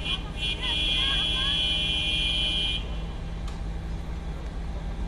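A car horn blares in one long, steady honk for a few seconds, loud and close, then cuts off leaving low traffic rumble.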